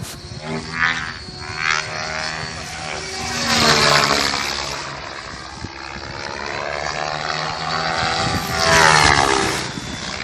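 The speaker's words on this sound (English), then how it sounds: "This T-Rex RC helicopter crashes due to tail boom strike." A T-Rex RC helicopter flies nearby, its rotor and motor whining with rising and falling pitch sweeps as it maneuvers, loud and continuous without talk.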